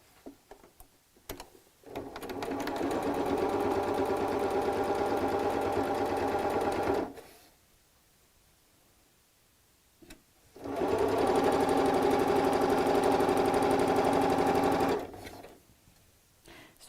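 A domestic sewing machine stitching bolster cushion fabric runs in two long steady bursts of rapid mechanical chatter, separated by a quiet pause with a few soft clicks, close and loud with no talking.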